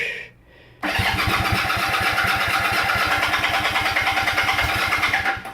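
A motorcycle engine fires up and runs steadily once the choke is turned off, its loud, close exhaust pulsing in a fast even rhythm with no talk over it.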